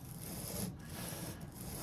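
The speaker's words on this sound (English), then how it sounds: "you're going to lap it, and you're going to go back and forth, nice and easy" Lapping bar rubbing back and forth inside steel scope rings, a faint, steady scraping rasp with a couple of brief pauses between strokes, close and quiet.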